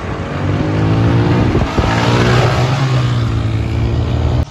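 An Apache 160 motorcycle and an Activa scooter rev hard before a drag race, making a loud, close, continuous engine roar with one brief dip partway through before cutting off.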